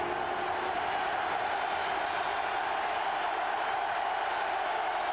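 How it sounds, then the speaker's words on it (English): Steady roar of a large football stadium crowd at a 1996 AFC divisional playoff between the Bills and Steelers in Pittsburgh, a dense continuous wash of voices holding at an even level throughout. "the crowd trying to get the defense going, also trying to make things difficult for the Bills to hear the signals"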